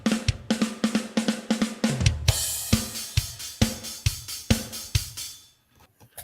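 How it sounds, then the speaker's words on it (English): Drum beat programmed in MIDI with a drum sampler in Reaper: a steady run of punchy kick and snare hits, with a bright cymbal wash swelling near the middle. The hits play alone and close, then thin out toward the end. "I programmed this whole thing in MIDI with a drum sampler"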